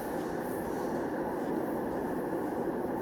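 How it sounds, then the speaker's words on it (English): A westbound light rail train arrives in an underground station, rumbling continuously nearby with a steady, heavy roar of wheels on rails and no voices. "And here comes the westbound train again"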